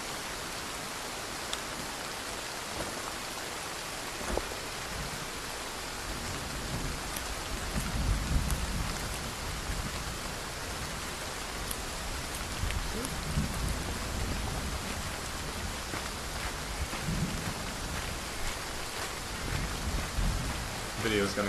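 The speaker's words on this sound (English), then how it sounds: "Rain can come for minutes at a time or as long as days." Steady rain pours across the Amazon rainforest in the Green Hell survival game, a continuous dense hiss with low rumbling swells that could be distant thunder, with no voice over it.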